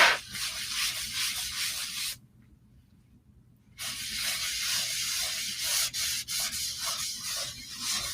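Wax is rubbed by hand over a chalk-painted sign in steady back-and-forth scrubbing strokes, close and fairly loud, with a pause of near silence partway through before the rubbing resumes.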